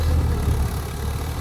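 A Mahindra 585 N2 diesel tractor engine runs steadily with a low, dense rumble, close and loud, with no pause or change in pitch.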